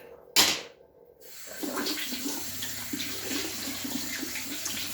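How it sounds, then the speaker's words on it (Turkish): Water runs from a tap as hands and face are washed, a brief sharp splash followed by a steady stream with small splashing and movement, fairly quiet and close. "Şimdi ellerimi yıkayayım, yüzümü yıkayayım falan filan."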